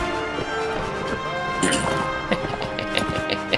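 Horse hooves clatter in a gallop in the Viking Conquest expansion of Mount & Blade: Warband, quick uneven thuds under a battle din of clashing hits, with someone talking over it.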